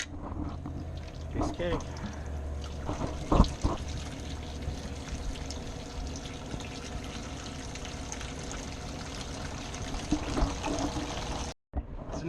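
Gasoline siphoned from the tank of a 1979 Ford F350 runs into a bucket, a steady liquid pour and trickle close by, punctuated by handling knocks, with someone speaking briefly over it.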